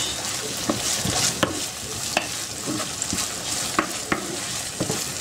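Fried tomato sauce sizzles steadily in a pan while a spoon stirs it, with light scraping taps at irregular intervals, close and fairly loud with no talking.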